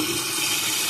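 Water rushing in steadily as a tankless water heater refills during a descaling flush, a loud continuous hiss with no pauses or voices.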